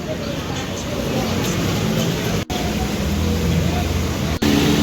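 Cars driving in first gear through a street flooded by rain: a continuous loud roar of engines and tyres in water passing close by, with a person talking over the traffic noise throughout.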